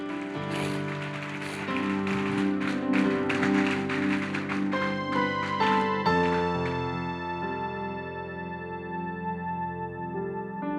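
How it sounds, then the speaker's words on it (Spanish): A church congregation applauds loudly in dense, sustained clapping, with organ or keyboard chords held underneath before the clapping thins out. "Denle un aplauso fuerte al Señor Jesucristo."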